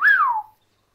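A voice imitates a whistle: a single rising-then-falling whistled note, close and clear, lasting about half a second and then cutting to silence.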